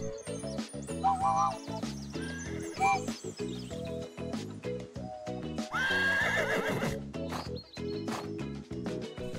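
A cartoon horse in a children's animation neighs and whinnies loudly over bouncy cartoon-style music with clip-clop hoofbeats, several calls rising and falling.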